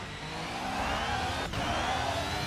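Engine of a race car in an F1 simulator video game drones and revs steadily at a mid pitch, with a brief dip in the middle, loud and continuous with no talk over it.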